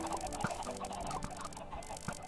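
Minecraft chickens in a Super Hostile Spellbound Caves II modpack cluck in short scattered bursts over a soft background of game ambience, fairly quiet, with no talking.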